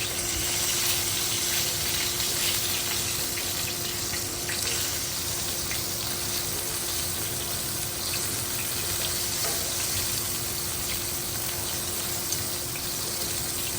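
Buffalo-style shiitake mushrooms fry in hot oil with a steady, dense sizzle that hisses continuously and evenly throughout, with no talking.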